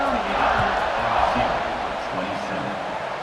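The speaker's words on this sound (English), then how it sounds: "this crowd is buzzing after that last score" A stadium crowd in a college football video game buzzes steadily, a dense, continuous roar of many voices with no break, heard under a commentator's ongoing play-by-play.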